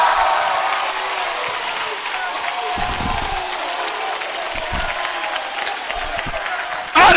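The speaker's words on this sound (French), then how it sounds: "Applaudissez le Seigneur." A church congregation applauds and cheers during a sermon, a broad, continuous roar of clapping and voices from a large crowd that holds steady throughout, with a few louder bursts rising near the end.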